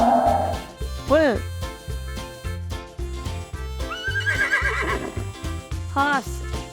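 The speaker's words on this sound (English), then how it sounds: "horse," A horse whinnies in two shrill, wavering neighs, separated by a few seconds, over a steady rhythmic musical beat, with a voice present.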